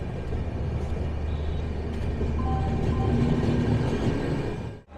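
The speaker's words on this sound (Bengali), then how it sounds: "ছেড়ে বেরোচ্ছে ট্রেন।" The Gurudev Express pulls out of Samalkot Junction with a steady low rumble and rhythmic wheel clatter, a faint squeal partway through, before the sound cuts off abruptly.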